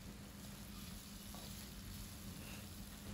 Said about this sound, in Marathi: भेंडीला थोडं 2-3 मिनटं आपल्याला परतून घ्यायचं आहे तेलामध्ये.